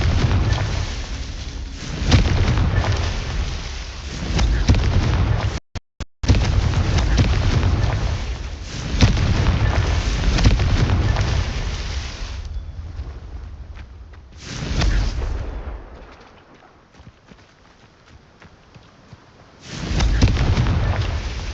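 Explosive spells cast in combat in the Hogwarts Legacy video game: repeated loud booming blasts and rumbling bursts in waves, separated by brief quieter gaps, with no talking.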